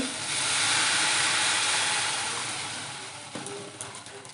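Water poured into a hot pan of dry-roasted mashed peas sets off a loud, broad steam hiss that swells, holds steady, then slowly fades, with a few faint clinks near the end.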